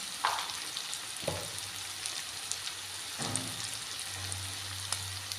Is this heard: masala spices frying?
yes